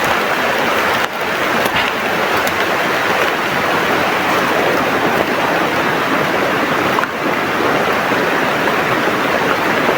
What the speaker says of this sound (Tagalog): grabe yung ulan mga tol.